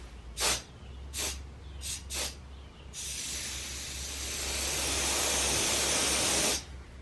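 An air compressor sprays glaze onto pottery: a few short bursts of hissing spray, then a long, steady broadband hiss lasting several seconds before cutting off abruptly, close and fairly loud.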